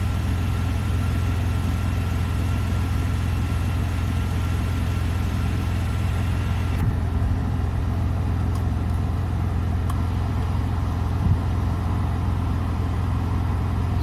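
A car engine idling steadily while the radiator thermostat waits to open, a constant low rumble with an even hum, close and unbroken throughout, with a faint click or two near the end.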